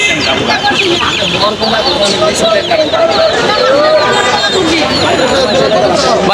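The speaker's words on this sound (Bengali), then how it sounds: "এখানে দেশি মুরগি দেখতে পাচ্ছেন আর এগুলো হলো টাইগার মুরগি" Desi and tiger chickens clucking and chattering at a busy market in Tongi, many birds close by in a dense, continuous din with people talking underneath.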